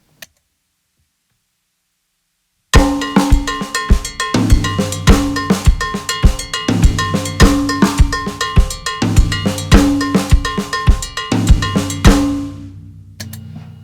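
Drum kit playing a funky Mozambique pattern, with a steady driving cowbell over a snare flammed on the first note, kick and hi-hat. It starts after a brief silence and runs loud, close and continuous in a repeating syncopated groove.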